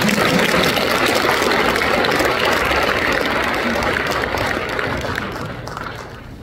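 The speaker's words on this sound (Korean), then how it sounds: "하나님 앞에 영광의 박수 올려드리겠습니다" A church congregation at a March 1st memorial worship service in Incheon claps together in a broad, dense wash of applause that stays strong and then gradually fades out near the end.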